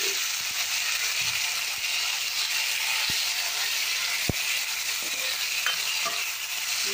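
Chopped onions, tomatoes and green chillies frying in a tempering of hot oil, a steady, dense sizzle holding level throughout with a couple of faint clicks from the pan, no voices.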